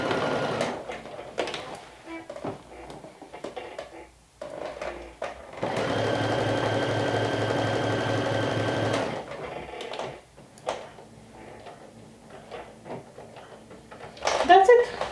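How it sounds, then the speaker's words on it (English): A sewing machine stitches binding on a Sinclair Alba garment, running in one steady, fairly loud mechanical burst of about three seconds, surrounded by quieter handling noises and a voice speaking. "Just stitching the binding now."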